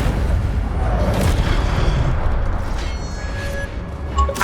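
A fire spell cast in Hogwarts Legacy bursts out as a loud, rumbling whoosh over constant combat noise, with a couple of brief tonal flourishes toward the end.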